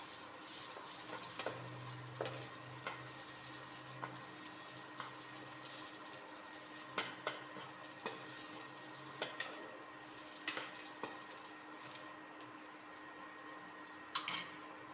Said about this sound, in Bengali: তো চালটাকে আমি ভালোভাবে নেড়ে চেড়ে এটার সাথে মিশিয়ে নেব। চালটাকে মোটামুটি ভেজে নিতে হবে।